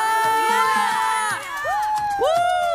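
Church congregation cheering and whooping together during praise and worship, a loud sustained crowd roar with rising shouted voices swelling through the whole moment.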